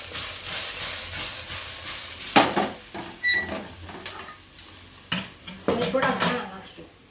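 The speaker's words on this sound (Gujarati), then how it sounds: "હવે આને હલાવી નાખશું. આમને હલાવી નાખશું." A spoon scrapes and clinks against a pan while stirring a fenugreek muthiya mixture, in irregular metallic knocks over a soft steamy hiss.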